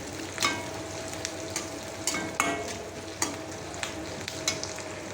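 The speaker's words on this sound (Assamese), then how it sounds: "পিঁয়াজটো কাৰাকৈ ফ্ৰাই কৰিব লাগে, তেতিয়া মাংসটো টেষ্টি হয় খাবলৈ" Onions frying for a chicken fry, a steady close sizzle in the pan broken by repeated sharp scrapes and clinks of a spatula stirring, with no talk.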